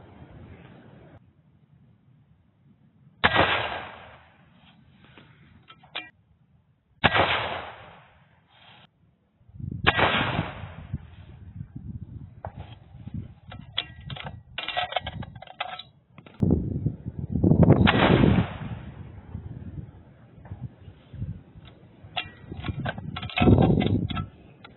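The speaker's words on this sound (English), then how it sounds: "my chronograph only picked up the last 4 shots" Rifle shots fired at a long range shooting session ring out as several sharp, loud cracks, each trailing off in a decaying echo, spaced a few seconds apart with light background noise between.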